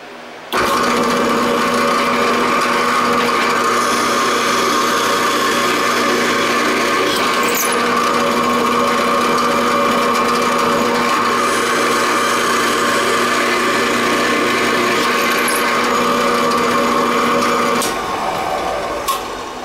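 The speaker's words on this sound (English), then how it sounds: "just drill a couple holes" A power drill whines continuously at a steady pitch for a long stretch, close up, drilling holes in drywall, then winds down.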